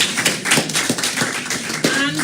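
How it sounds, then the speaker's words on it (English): A brief burst of audience clapping breaks out at the launch event for a conservation trust fund's first call for proposals, close, with uneven hand claps and some voices underneath. "She definitely needs a round of applause"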